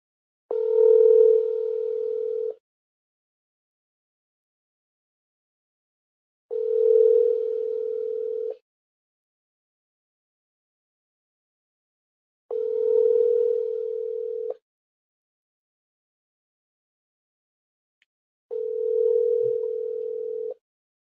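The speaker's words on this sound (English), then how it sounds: "He's ringing. It's ringing." Telephone ringback tone during a call: four steady, identical tones about two seconds long, spaced roughly six seconds apart with silence between, clear and unaccompanied.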